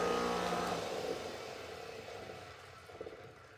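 A Delta 23-700 bench grinder with a grindstone and a small grinding wheel hums loudly as it runs, its whirring tone gradually fading and slowing, with a faint knock near the end.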